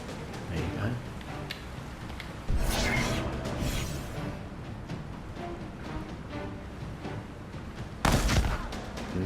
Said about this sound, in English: And they shoot us, that's their turn.